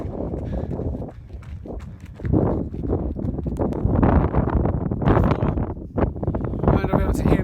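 Strong wind buffets the microphone in a loud, continuous roar while someone runs downhill, with rhythmic footfalls beneath the gusts.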